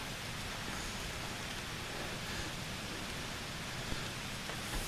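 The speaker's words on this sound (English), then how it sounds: "Got a little rain coming down." Light rain falls steadily in a backyard, a soft, even hiss with no voices and only the faintest scattered drop ticks.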